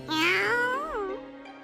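A cat meows once in the SAO Alicization Lycoris video game: a loud, close, drawn-out cry that rises and then bends downward, heard alone and without speech.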